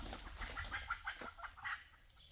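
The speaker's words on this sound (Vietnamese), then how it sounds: "Ôi gà mái kìa anh Vũ, gà mái kẹo đó." A hen clucking outdoors, several short, quick clucks in an uneven run, fairly faint and without talk over them.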